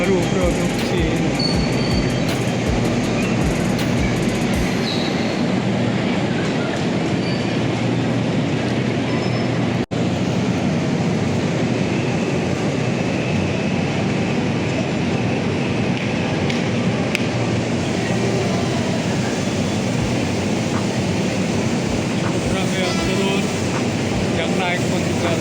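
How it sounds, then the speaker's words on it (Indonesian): New China-made commuter train at Tanah Abang station in Jakarta, a steady loud rumble of rolling cars and station noise running throughout, with a sharp click midway and people talking underneath. "Kereta baru produk Cina."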